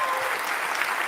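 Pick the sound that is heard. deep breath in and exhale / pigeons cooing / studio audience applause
studio audience applause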